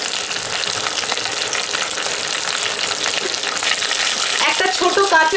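Two whole dried red chillies with curry leaves sizzling in hot oil for a tempering, a loud, dense, continuous fizz close up, with sharper crackles near the end.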